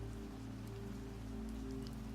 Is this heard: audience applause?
no